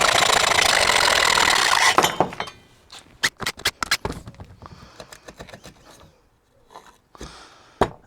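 A threaded steel rod (studding) is cut by hand, held square on a bench: a dense rasping stretch of sawing gives way to a string of sharp metallic clinks and taps, with a final bright ring as the cut ends.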